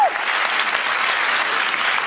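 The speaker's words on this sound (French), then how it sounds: "on sent que vous avez applaudi plus fort de fierté" A stand-up comedy audience gives a short burst of dense, steady applause that fills the whole moment at close range.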